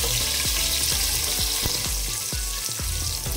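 Finely chopped onion frying in oil with curry leaves for vegetable sambar, a loud dense crackling sizzle with a regular series of dull knocks or taps throughout, no voices.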